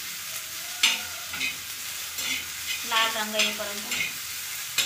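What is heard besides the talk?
onion frying in a pan with ginger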